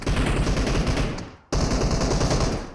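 Rapid automatic gunfire in PUBG Mobile, loud and close, one dense burst that fades briefly and then resumes just as strongly.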